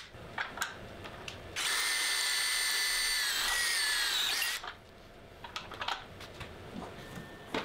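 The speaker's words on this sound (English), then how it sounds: "using a small jig, I can drill 4 square holes to shift the last item profile inwards" A power drill bores square holes through a small jig while a CNC router's spoilboard is being changed: a loud steady whine of roughly three seconds, with sharp clicks and knocks of handling before and after.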